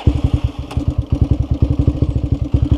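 A Honda Twister motorcycle engine runs close by, a loud, rhythmic chugging of evenly spaced low thumps at a steady idle, with no talk.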